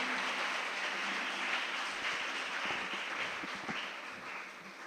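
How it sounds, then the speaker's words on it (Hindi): Steady applause from a seminar audience after students of a Bharatanatyam dance program perform Draupadi Cheer Haran, a dense wash of many hands clapping continuously at moderate level, tapering slightly toward the end with no talk. "तो जोरदार तालियों से इनका धन्यवाद करें।"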